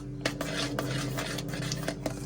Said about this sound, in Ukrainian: Ми змішуємо, закипає.